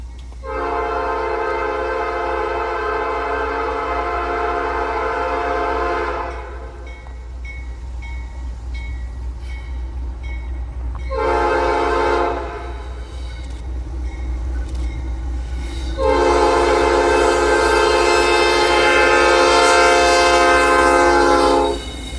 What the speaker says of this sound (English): NS 289 rounds the corner as it comes up towards the west into two tracks to head towards Rossville.